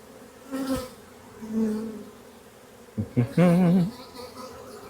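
Bees buzzing around a swarm trap in an apiary, a faint hum with louder passing buzzes as individual insects fly close, the strongest pass near the end.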